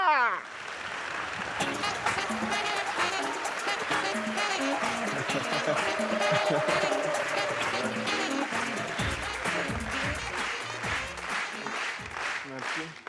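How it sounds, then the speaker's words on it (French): Comedy show crowd in a large hall clapping, whooping and making noise for a comedian billed as the president of Burkina, a sustained loud roar of applause over thirteen seconds with shouts and rhythmic clapping mixed in. "On fait un maximum de tonnerre, d'applaudissements et de bruit pour le président du Burkina"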